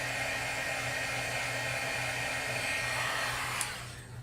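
A heat tool blows a loud, steady whoosh with a low motor hum while setting embossing powder, then cuts off and winds down near the end.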